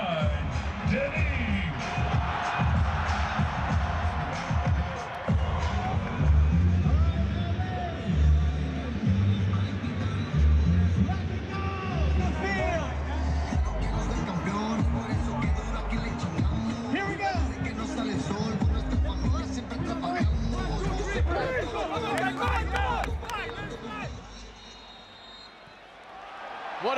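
Dense roar of a record stadium crowd of over 70,000 at the Los Angeles Memorial Coliseum for the LAFC vs Inter Miami season opener, a continuous wash of voices and cheering with brief whoops, easing slightly near the end.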